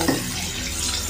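Water pours steadily into a hot pan of spiced beef nehari masala, a brief hiss and sizzle over a continuous gushing splash.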